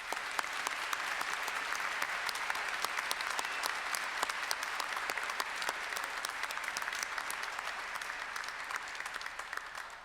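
An audience at a Monash University graduation ceremony applauds graduates in steady, dense, continuous clapping that fills the hall at even loudness throughout.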